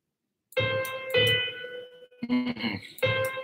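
Piano notes stepping through a full seven-note scale, a few sustained tones plus a short quicker run, played close and clear with no talking.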